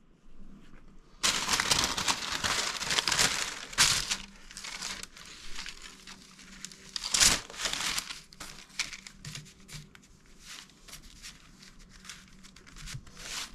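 Parchment paper crinkles and rustles as it is handled beneath rolled-out pizza dough on a peel, in close, fairly loud bursts with quieter gaps and a sharp spike midway, and no talking.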